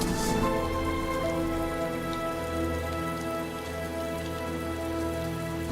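Steady, heavy rainfall patters on hard surfaces in the video game Heavy Rain. The hiss continues throughout under a low, sustained musical drone, with no talking.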